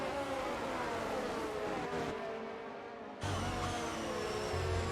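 F1 race cars in a racing video game, high-pitched engine whine sustained and shifting in pitch, briefly cut to a quieter moment before the roaring engine returns close and loud.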